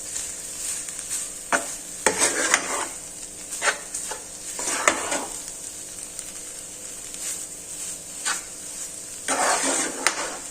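Thick puran puri stuffing with cardamom powder being stirred in a pan: repeated scraping strokes of a spoon against metal at an irregular rhythm over a faint steady sizzle.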